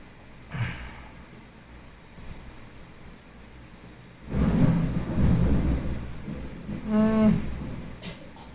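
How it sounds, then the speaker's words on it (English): Thunder rolls in from a distance as a low, broad rumble that swells for a couple of seconds and then fades, with a brief fainter rumble earlier on and no one talking over it. "it's thundering"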